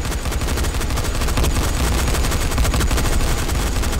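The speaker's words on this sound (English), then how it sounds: "I'm just shooting all of them." Continuous rapid gunfire from a firefight in the zombie video game Dying Light, loud and dense rattling shots running unbroken from start to finish.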